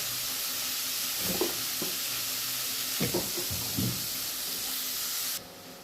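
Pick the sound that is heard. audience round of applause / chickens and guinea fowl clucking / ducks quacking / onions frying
onions frying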